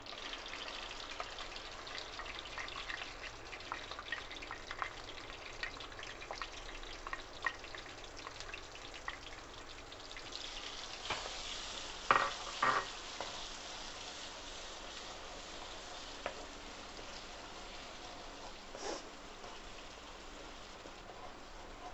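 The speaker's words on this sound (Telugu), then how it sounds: "ఇది మనం లైట్గా కలర్ చేంజ్ అయ్యే వరకు మనం ఫ్రై చేసుకోవాలి." Ground masala paste for Hyderabadi chicken gravy fries in a pan, giving a steady, fairly quiet sizzling hiss with a few sharper pops and spatters about midway.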